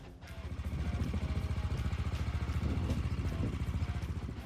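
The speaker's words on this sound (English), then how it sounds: "the AJPPR7 is essentially a rally race bike that somehow got a license plate" An AJP PR7 rally motorcycle, a Portuguese-built rally race bike made road legal, idles and revs with a steady, pulsing engine note that stays loud and close throughout.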